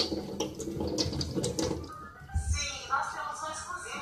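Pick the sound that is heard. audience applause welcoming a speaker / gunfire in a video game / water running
water running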